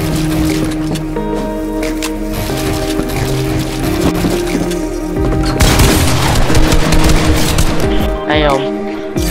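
Video game gunfire plays on a PC, with scattered shots under a busy mix of game sounds and then a louder, denser burst of rapid fire late in the clip.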